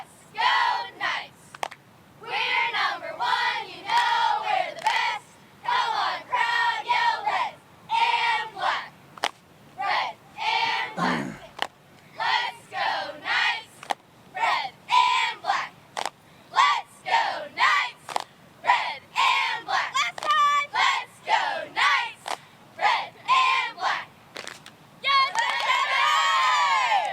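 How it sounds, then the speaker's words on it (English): Spectators at a Friday night South Carolina high school football game, James Island at Stratford, shout rhythmic chants in short, loud, evenly spaced bursts with brief pauses between, ending in a longer swell of cheering. "Come on, crowd, yell, let's go Knights."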